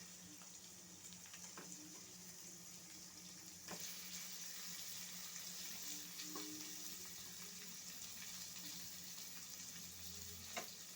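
Chicken pieces fry with lightly browned onions for chicken nihari, giving a faint but continuous sizzling hiss with occasional soft pops and no talking.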